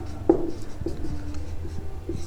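Chalk or marker scratching on a board during a Class 12 maths lecture on continuity and differentiability, a few quiet taps and strokes with a low room hum, no talking.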